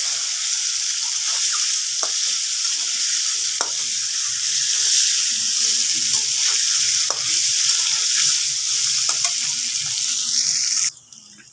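Eggs fry in a wok with turmeric, giving a steady, loud sizzle with scattered crackles and occasional stirring clicks before it drops off abruptly near the end.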